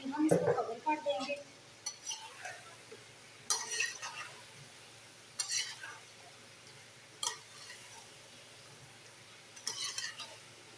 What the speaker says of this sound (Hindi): आलू डाल को इसको हम अच्छे से हिला के 1 से 2 मिनट इसको भून लेंगे